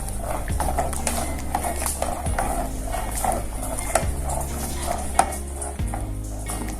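Thickening milk stirred in a pot for shahi tukda, with a spoon scraping and knocking against the metal in a steady repeating rhythm, close and fairly loud.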